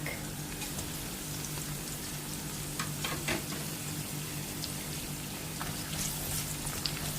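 Ginger and garlic stir-frying in a wok for Chinese cabbage with egg tofu, a steady close sizzle with a low hum beneath and a few scraping stirs partway through.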